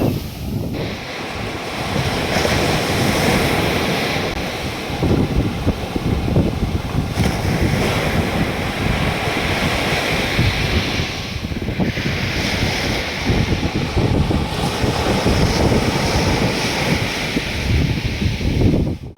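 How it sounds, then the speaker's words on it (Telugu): Powerful waves crash and roar continuously on the shore at Mypadu beach, Nellore, heavily buffeted by wind noise, loud and close with no voices. "అలలు మాత్రము చాలా ఫోర్స్గా వస్తున్నాయి."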